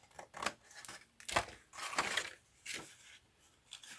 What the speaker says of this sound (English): You can cut one of these off.